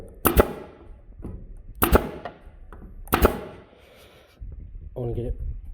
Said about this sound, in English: So now we have a nail gun.